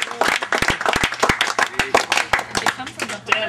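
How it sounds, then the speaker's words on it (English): A small group claps at a ball hockey tournament awards ceremony, close and uneven with sharp individual hand claps, while people talk and call out over it. "We'll give a round of applause."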